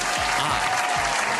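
A short burst of clapping applause from a small group, dense and close, lasting just over a second.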